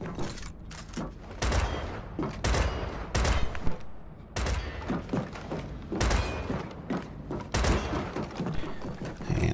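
Repeated gunshots and heavy thudding grenade blasts from Gears of War 4 Horde mode sound in irregular loud bursts with short gaps, with mechanical clunks in between.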